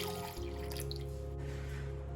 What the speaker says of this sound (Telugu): So you can add water.